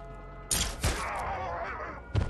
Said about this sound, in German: tacker ihm mal mit einer Nadelpistole ordentlich an die Wand